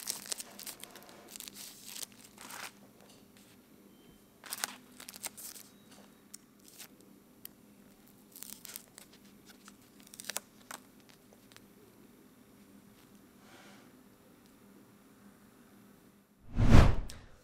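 Custom printed stickers being cut apart, faint scattered snips and paper rustles, ending in a louder brief crinkle close by.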